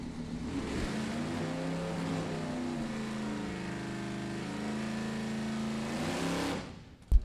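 A 1956 Chevy drag racer roars steadily at Byron Dragway. The engine sound holds at an even, moderate distance for about six seconds, then fades out, and a short sharp knock follows.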